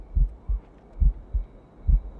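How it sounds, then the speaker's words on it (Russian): Heartbeat effect from the video game Assassin's Creed Rogue, a low, close, steady double-thump pulse repeating five times, alone with no talk. "Сердце бьется."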